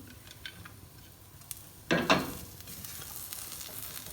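Chana dal halwa with added nuts and black raisins being stirred in a pan, a soft scraping swirl with a brief louder clatter midway over a faint background sizzle, no voices.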